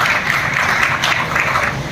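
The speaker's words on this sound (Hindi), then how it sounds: "आपको इसके लिए ताली बजानी चाहिए" An audience claps for soldiers' wives at a memorial fair for fallen soldiers on a ward sports ground, producing dense, steady applause that holds level from start to finish.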